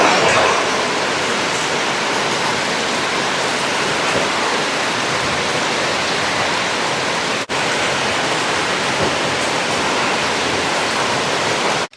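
Heavy, steady rain pours down at a house with a back fence wall under repair, a dense, unbroken roar of water that stays loud for the whole stretch, with no voices.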